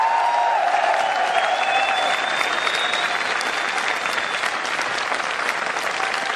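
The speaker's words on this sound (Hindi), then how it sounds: "एक बार जोरदार तालियां के लिए हो जाए।" Loud, sustained applause from a seated audience at a motivational talk, steady clapping filling the whole stretch with little variation and no voices on top.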